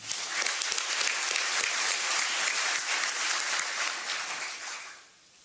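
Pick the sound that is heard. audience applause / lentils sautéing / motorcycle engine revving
audience applause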